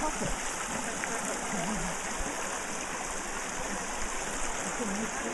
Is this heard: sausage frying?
no